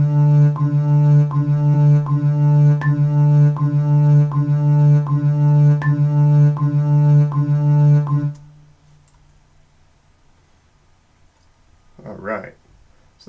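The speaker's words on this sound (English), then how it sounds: "I have my metronome just in case you want to know," A metronome ticks evenly at 80 beats per minute over a sustained humming tone for about eight seconds, then quiet, with a brief voice near the end.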